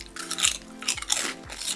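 Crunchy cassava chips being bitten and chewed up close, three sharp crunching bites in a row with grinding mastication between them, no talking.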